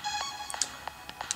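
Short electronic phone ring tones, several bright beeps in a quick irregular burst, heard over a synthetic game soundtrack during play of Impossible Game.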